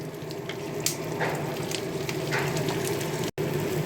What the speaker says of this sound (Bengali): এবার একটু কুচনো পেঁয়াজ এগুলো একটু দিয়ে দেবো ভাজার জন্য